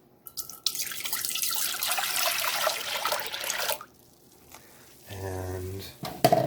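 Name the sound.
pouring violet flower infusion into a pot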